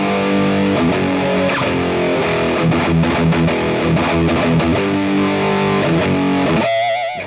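A Bugera tube amp head's line output runs through a Miko Reflex cabinet plugin preset. It gives a loud, continuous distorted guitar tone of chugging chords and riffs that cuts off abruptly near the end, with no talking.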